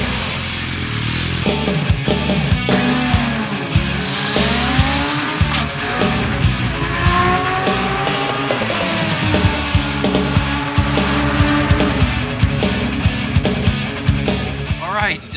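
A stock Suzuki 1300R road motorcycle making a full drag strip pass, its engine roaring loud and continuous through rising gear pulls for the whole run, with a dense harmonic snarl throughout.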